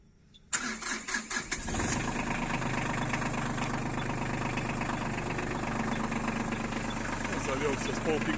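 A Yanmar FV270 mini tractor starts in minus 20 cold. After about a second of rapid starter cranking, the engine catches and settles into a steady, close, rattly idle.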